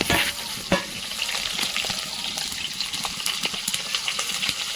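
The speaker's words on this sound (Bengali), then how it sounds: "সবার প্রথমে এতে আলুগুলোকে দিয়ে দেবো আলুগুলোকে তেলটা একটু ভেজে নিতে হবে" Large potato pieces fry in hot oil with a loud, continuous sizzle and crackle. A few sharp clatters sound near the start, and no voices are heard.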